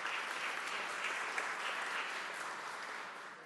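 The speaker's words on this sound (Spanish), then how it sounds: "Un aplauso también para todos y todos ustedes." Seminar attendees give a continuous round of clapping, many hands together at an even level that fades a little near the close.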